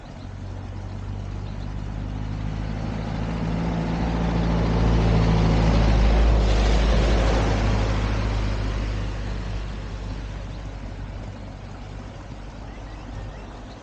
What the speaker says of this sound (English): Occasionally the sound of the stream is eroded by traffic noise.